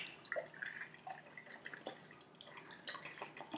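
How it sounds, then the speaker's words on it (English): Low fat milk poured into a drink mixed with maple syrup and lime juice, a close, steady liquid splash and trickle with small dripping accents, heard on its own without talk. "I'm pouring low fat milk"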